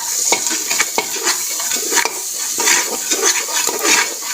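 Ground turmeric, coriander and cumin powder being stir-fried in a pan for a chickpea curry: a steady close sizzle broken by repeated scraping knocks of a spoon against the pan, with no talking.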